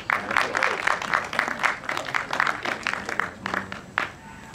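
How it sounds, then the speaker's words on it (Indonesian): An audience applauds during the introduction of a film cast at a stage event, with dense, sustained clapping from a crowd that continues for several seconds before trailing into scattered claps. "Tepuk tangan sekali lagi dong."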